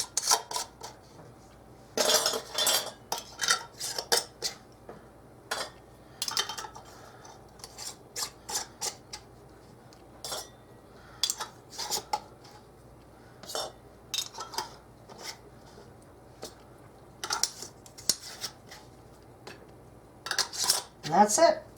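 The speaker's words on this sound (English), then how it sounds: "We're going to put them on, maybe, finger tight" Metal canning rings being screwed onto pint jars of pork stew by hand, producing a sequence of short scraping clinks and rasps of metal against glass threads, close and intermittent with quiet gaps.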